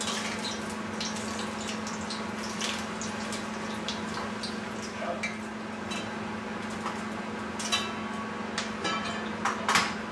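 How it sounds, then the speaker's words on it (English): Jalapeno and garlic deep fry in hot oil, a constant hiss under scattered small pops and crackles. A low steady hum runs beneath it, and no one speaks. "deep fry the jalapeno and the garlic"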